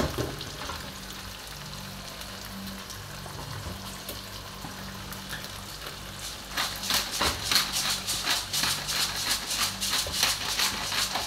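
Squash (kalabasa) drops into a cooking pot and sizzles, with a low hum and frying crackle at first, then louder bursts of hissing and stirring scrapes toward the end, no talking.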